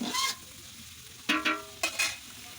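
Onions are stirred in hot oil in a pan for chicken dum biryani, with a close sizzle and short bursts of frying hiss as the spoon moves them, no voice heard.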